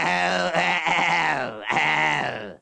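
A voice imitates a goat or sheep bleat in a cartoon, giving two drawn-out, wavering bleats with a brief break between them, loud and close.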